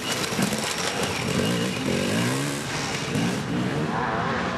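Dirt bike motorcycles roar around a turn at a race in Mansfield, a loud continuous buzzing of engines with rising and falling revs as several bikes pass close by.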